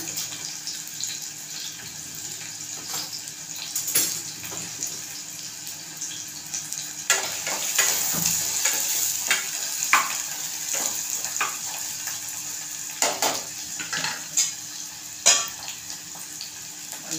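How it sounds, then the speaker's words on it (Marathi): Onions fry in a pan and get stirred, a continuous close sizzle with intermittent scraping strokes and clinks over about seventeen seconds, moderately loud, no voices. "चांगला कांदा आपल्याला लाल होईपर्यंत परतून घ्यायचा आहे।"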